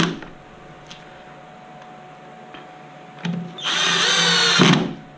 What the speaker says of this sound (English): So what I will do is I'll put just 2 screws down the base here.